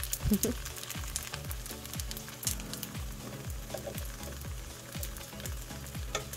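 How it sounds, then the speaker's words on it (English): Dumplings frying in an oiled pan and being flipped: a steady sizzle broken by a string of short, sharp knocks and scrapes of the spatula against the pan, close and fairly loud, with no talk. "After some time, flip your dumpling pizzas, or dumplings."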